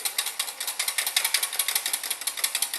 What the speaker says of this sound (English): Keep on whisking.